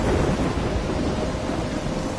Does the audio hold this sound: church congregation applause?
no